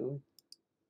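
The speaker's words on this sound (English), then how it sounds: "I'm going to click on the survey." Two light, quick computer mouse clicks a fraction of a second apart, faint and close, just after a brief bit of speech.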